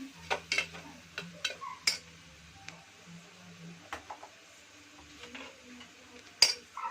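A spoon stirs carrot drumstick curry with coriander powder in a pan, sounding as sparse scraping strokes and clinks of utensil on metal over a faint sizzle, with a sharp knock near the end.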